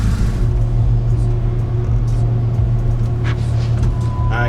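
Deep steady rumble of a BMW E70 X5M's twin-turbo V8 idling or cruising close by, continuous and loud throughout with a faint rising tone near the end.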